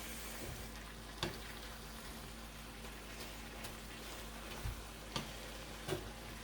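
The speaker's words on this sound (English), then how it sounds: "Just keep giving this a good stir." Cheesesteak filling fries quietly in a pan as a utensil stirs it, a faint steady sizzle broken by a few sharp scrapes and taps against the pan, with no one talking.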